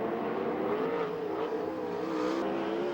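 A USAC/CRA sprint car engine drones and revs steadily around the oval at the Perris, California Oval Nationals, a strong wavering whine sustained throughout at moderate distance.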